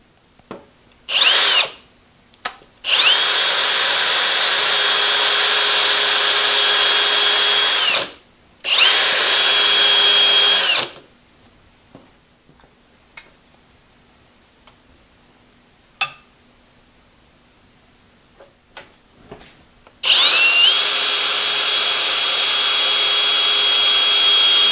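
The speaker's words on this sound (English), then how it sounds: "I'm just going to drill partway through and then use it as a pilot hole for the final size." A power drill press whines loudly in several bursts while drilling a pilot hole partway through a part, long steady runs separated by quiet pauses and small clicks, close up.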